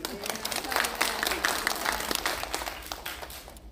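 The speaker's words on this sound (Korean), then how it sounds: "여러분 뭐 빨리 집에 가고 싶어서 박수를 계속 치는 거 아니에요?" Audience applause at an education ceremony, a dense run of clapping from a hall full of people that stays steady, then thins and fades at the end, with a voice faintly over it.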